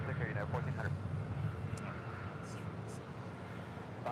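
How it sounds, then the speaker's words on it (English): United Airlines Boeing 757-300 departing LAX, a steady broad jet roar filling the whole clip at moderate distance, with faint voices or radio chatter over it early on. "That is United Airlines flight 1400 departing to Chicago O'Hare on a 757-300."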